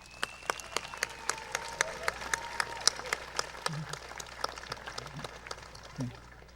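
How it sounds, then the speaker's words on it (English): An audience at a commencement ceremony applauds steadily, with dense clapping running throughout and a few faint voices underneath. "Let us all give a round of applause."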